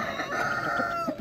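Rooster at a busy Polish poultry market, its crow-like call running steadily through a dense mix of clucking hens and market noise for just over a second.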